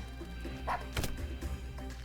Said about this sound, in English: Dog goes in for an attack on our barracks,